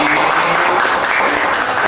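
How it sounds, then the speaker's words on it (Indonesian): Studio audience at a Bea Cukai Gresik customs office podcast breaks into steady, dense applause, loud and continuous throughout with a few voices mixed in. "Tepuk tangan dulu dong buat Bea Gresik"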